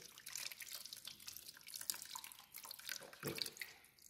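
Tap water running into a sink while hands are rinsed up to the wrists, a steady close splashing stream with small drips and shifting spatter, heard alone.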